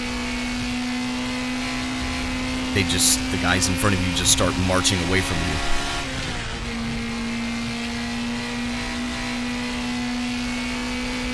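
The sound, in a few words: NSU Prinz TTS race car engine in the video game RaceRoom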